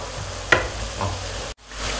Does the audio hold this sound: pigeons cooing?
no